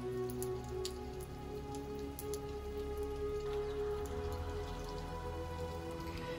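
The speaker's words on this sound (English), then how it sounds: "then it started to rain pretty bad" Heavy rain falls on São Miguel in the Azores, a steady, even patter of drops on surfaces, fairly quiet as heard from under shelter, with no talking.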